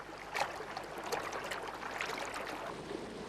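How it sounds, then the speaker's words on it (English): River water in a mountain valley where red-winged starlings bathe, a soft, steady trickling and splashing with faint brief splashes, fairly quiet and close. "Red-winged starlings bathe in the river."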